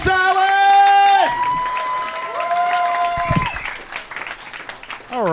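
A comedy club audience cheers and whoops for comedian Chris Allen, with loud sustained shouts over applause at the start, then a lighter scatter of clapping and voices.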